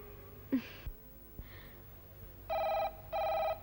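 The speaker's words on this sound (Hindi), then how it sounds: "दीदी का फोन होगा।" A telephone rings twice with loud electronic bell tones, each burst lasting about half a second, after a few faint sounds in a quiet room in a Hindi television serial scene.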